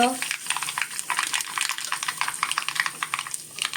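Mustard seeds spatter and crackle in hot oil with asafoetida, a dense stream of sharp little pops and sizzles, close by and fairly steady.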